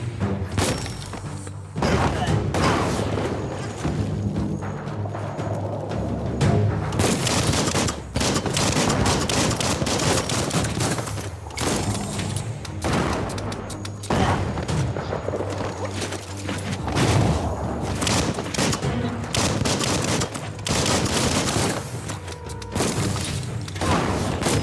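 Explosions from a bomb lobber weapon in the video game Biomutant: repeated loud booms and thuds over continuous rapid combat fire and mechanical game effects, steady and dense throughout the long stretch.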